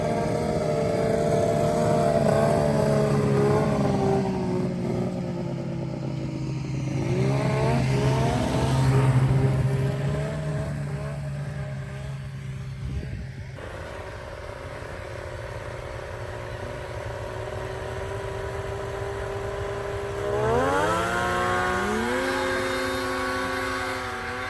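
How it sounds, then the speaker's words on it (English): A vintage snowmobile fitted with a 600 triple engine races, a continuous loud engine wail that rises and falls in pitch across several throttle changes and climbs sharply near the end, with no voices. "They're doing best 2 out of 3, so if Adam wins, they'll do one more race"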